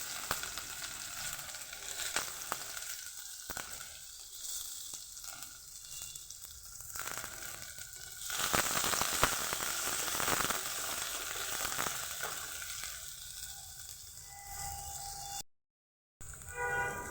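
Chopped garlic and onion sizzling in hot oil for cabbage momos, a steady close crackle with stirring clatter, growing louder midway as the onions go in, with a brief dropout near the end.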